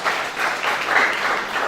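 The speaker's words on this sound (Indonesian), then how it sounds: "Tepuk tangan yuk." A church congregation applauds during a worship service, steady diffuse clapping filling the whole short stretch at moderate loudness with no talking over it.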